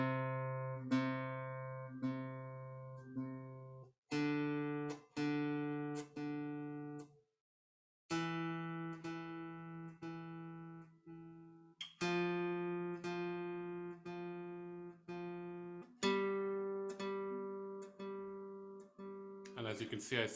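Sustained piano notes played in groups of four, each group at a different volume level, with brief pauses between groups and a soft noisy burst at the close.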